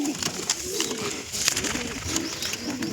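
Grey pigeons coo faintly in a breeding box, low rolling calls repeating steadily against a hissy, noisy background.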